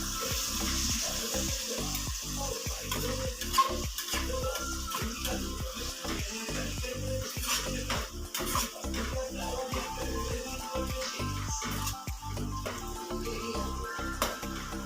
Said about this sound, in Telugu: పుదీనా వేసుకున్న తర్వాత బాగా మిక్స్ చేసుకోండి